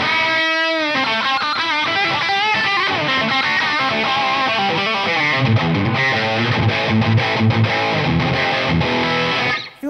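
Distorted Jackson SLX DX Soloist electric guitar played through a Boss Katana Artist amp, loud and continuous, with tight riffing chords and driving palm-muted rhythm in the second half, no voices.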